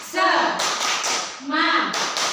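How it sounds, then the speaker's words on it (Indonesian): A group of teachers performs the rhythmic 'tepuk semangat' spirit clap, two bursts of patterned clapping with close taps, while voices chant along through the rhythm. "kita tepuk semangat dulu ya. Tepuk semangat."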